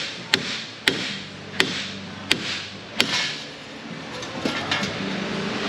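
Five sharp metal hammer blows ring out roughly every 0.7 seconds, knocking a Chevy Malibu wheel bearing loose from the steering knuckle, followed by lighter, quicker taps and clatter.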